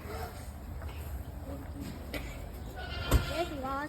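Sheep on a farm bleating in short, wavering calls under a noisy scene, with a child's and adult's voices and shuffling around; the bleats are moderately close but partly masked by the chatter.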